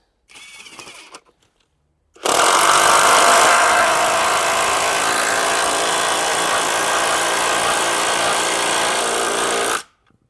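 A Profitek impact wrench fitted with a 17 mm socket gives a brief burst, pauses, then runs loud and close in a continuous rapid hammering rattle for about seven seconds before stopping abruptly.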